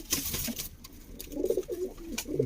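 Pigeon cooing at a loft, a few soft low coos close by amid light rustling and background noise.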